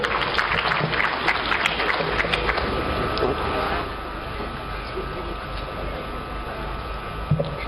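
At the opening of the Sabasaba trade fair, an audience claps in a dense, continuous burst that fades after a few seconds into a quieter hall ambience with a steady hum.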